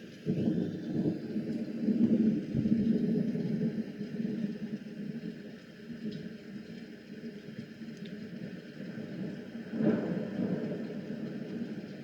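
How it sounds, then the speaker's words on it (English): A white noise machine plays a recorded thunderstorm: deep rolling thunder rumbles swell and fade over a continuous rain hiss, with a second boom near the end, steady and fairly quiet. "That thunder right there."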